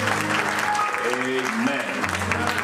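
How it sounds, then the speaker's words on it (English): A congregation at a funeral service claps in praise, a steady wash of hands under a voice speaking over it. "Let's give him another hand clap of praise."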